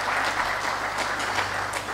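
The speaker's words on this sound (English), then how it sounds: "May I request a resounding round of applause for the CS as he takes his seat." An auditorium audience at a national defence and security summit in Abuja applauding, a sustained even roar of many hands clapping, loud and full with no talk over it.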